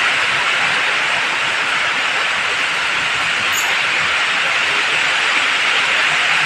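Heavy, unrelenting rain pours in a steady, dense hiss through a rural village morning during a storm, loud and unbroken throughout with no voices.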